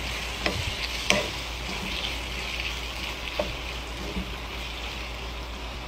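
Tomatoes and peppers fry in a pan with a steady, soft sizzling hiss and occasional stirring scrapes and taps, no voices.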